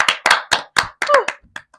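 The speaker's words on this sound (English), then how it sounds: "Applause is probably gonna sound great on the audio" Handclapping from a few people indoors, around seven sharp, evenly spaced claps that trail off into softer scattered taps, close to the microphone with a brief voice in the middle.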